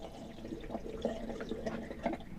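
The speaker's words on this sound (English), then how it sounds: "I'm going to pour a little extra down the drain." Pink RV antifreeze pouring down a drain during winterizing, a soft continuous liquid trickle and gurgle at low level, with no talking.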